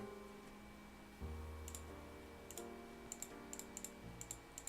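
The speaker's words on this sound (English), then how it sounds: "My keyboard is having a seizure." A malfunctioning computer keyboard typing on its own: scattered bursts of small, quick clicks at an uneven pace over a steady low hum and tone, fairly faint and without any talking.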